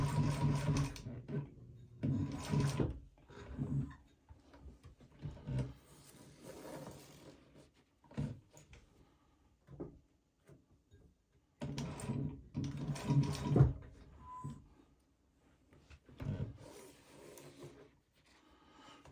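A sewing machine stitches a Tethrd Phantom hunting saddle in bursts of fast mechanical whirring and clatter, close up, with short pauses between runs.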